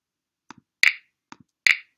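Two crisp finger snaps from an imported sound-effect library, evenly spaced about a second apart, each preceded by a soft, small click, with clean silence between them.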